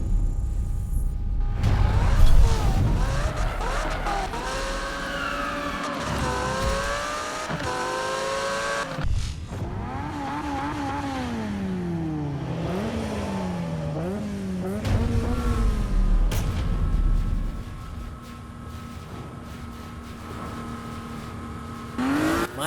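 Race car engines in the video game Need for Speed roar and rev loudly, with the pitch climbing and dropping through gear changes. Tires squeal briefly, and a throaty exhaust note runs continuously throughout. No one talks.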